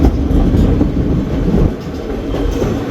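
The White Pass scenic train rolls along its rails, heard from outside, with a loud, steady low rumble and faint rhythmic clatter, easing slightly partway through.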